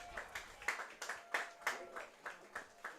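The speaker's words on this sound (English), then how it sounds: "A round of applause" Crowd applause at a Walla Walla Sweets home baseball game against the Bend Elks, heard at a distance as light, scattered clapping that comes and goes in soft bursts.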